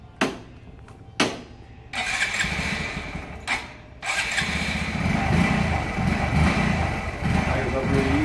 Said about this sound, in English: So what we can do is just start the bike up.